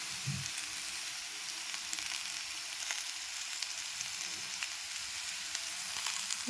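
Onions frying in oil in a home Bengali kitchen give a steady, close hiss of sizzling that runs unbroken throughout, with faint stirring clicks and no talking.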